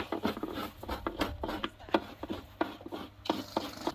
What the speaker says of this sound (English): manual way of scraping the coconut.